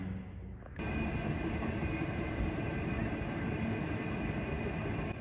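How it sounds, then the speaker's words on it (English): After a short quiet moment, a train rumbles steadily across a railway bridge in Goulburn, New South Wales, with a constant low roar and a faint high metallic whine. It is moderately distant. "There is a train going over that bridge, so it's still in working order."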